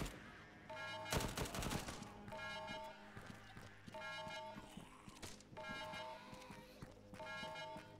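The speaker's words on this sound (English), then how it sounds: "The techie gunner shot you." Bursts of automatic fire from a technical's mounted gunner in Arma 3 during a zombie night mission, several rapid volleys repeating every second or so at mid distance, with a louder burst early on.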